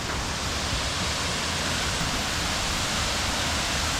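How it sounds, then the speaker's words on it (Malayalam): Overflow water from Siruvani dam rushes in a steady, dense roar that holds at a constant level from start to finish, with no voices. "കണ്ടോ, ഓവർഫ്ലോ ആയിട്ട് വരുന്ന വെള്ളം ഇത് കൂടെ പോയി ഇതാ അങ്ങനെ ഇങ്ങോട്ട് പോകും"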